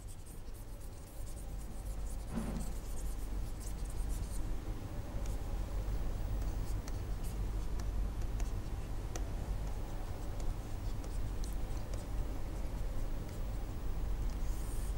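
A teacher writes on a board during a grammar lesson, producing steady scratchy strokes with scattered tapping ticks over faint background hiss. No one speaks.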